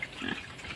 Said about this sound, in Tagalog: Ayan, ang makukulit na mga baboy na yan, napakatatakaw na.